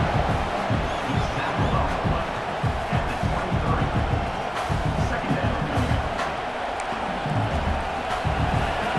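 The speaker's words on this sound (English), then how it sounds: "Listen to the crowd energy here in the early going." Stadium crowd roaring in EA Sports College Football 26, a dense continuous wash of cheering and shouts with surges, under game commentary.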